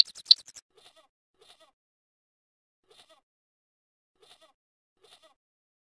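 A goat bleats in the Broken Sword (Baphomets Fluch) adventure game on PlayStation: one loud, wavering bleat up front, then a series of faint, short echoing repeats spaced out across the rest of the otherwise silent stretch.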